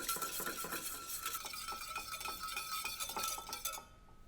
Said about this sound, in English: just whisk it all together